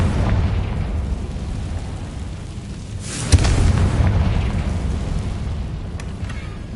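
Confringo fire spell exploding in Hogwarts Legacy on PS5, a dense rumbling blast that swells with a sharp crack near the middle and keeps roaring on through the rest, with a few bright crackles toward the end.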